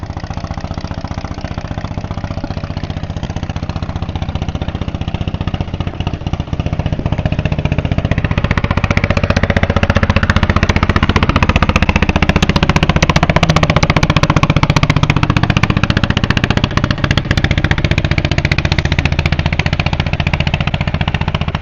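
A loud boat engine on the water in Vietnam rumbles and chugs close by, its throbbing drone building in strength partway through and then holding steady and heavy to the end, with no talking over it.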